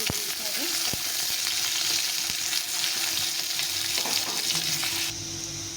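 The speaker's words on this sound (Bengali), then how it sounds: "পেঁয়াজটা দিয়ে দিলাম। পেঁয়াজটা একটু লাল লাল করে ভেজে নিতে হবে।" A large chopped onion with cumin sizzles steadily in a hot pan, frying for a fish curry: a dense, continuous crackle close up, with occasional clinks of a utensil and no voices.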